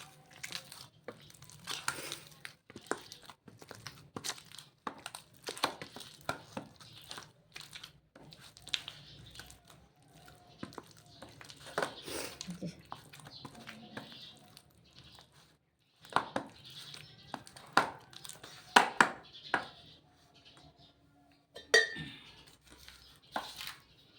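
Mashed taro (kochu bharta) being crushed with a utensil, faint scattered scraping, tapping and squishing strokes at an uneven pace, close by and quiet, with no voices.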